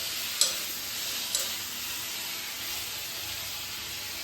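Chopped tomatoes fry in a hot pan for tomato sambar, giving a steady broad sizzle and hiss. Two sharp stirring clicks sound near the start, with no talking.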